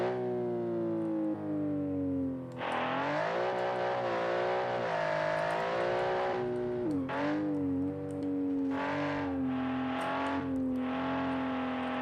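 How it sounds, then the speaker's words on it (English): An Alfa Romeo concept car driving in the BeamNG video game, its engine droning and revving with rising and falling pitch, shifting and surging several times, loud and close with no talk. "So let's drive the Alfa Romeo concept car."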